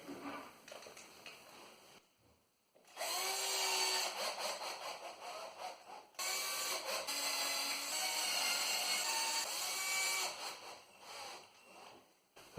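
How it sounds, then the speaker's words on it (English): Power drill boring into an old lath and plaster wall, two sustained high-pitched whining bursts of several seconds each, separated by a brief pause, close and fairly loud. "let's just start drilling"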